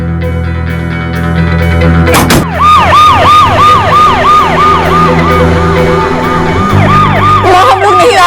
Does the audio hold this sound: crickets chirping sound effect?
no